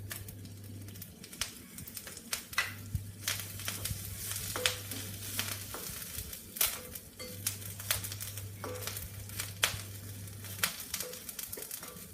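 Black pepper, cumin and curry leaves crackle and sizzle in hot oil for a curry leaf kuzhambu, with a continuous close spattering hiss broken by sharp pops and crackles, and no voices.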